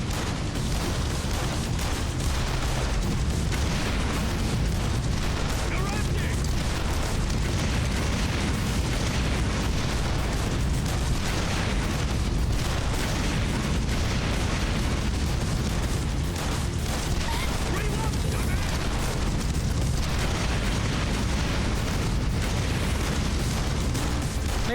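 Video game Yakuza 0 explosion, a loud, sustained, dense roar of blasts and rumbling combat noise that stays heavy and continuous throughout, with no clear gaps.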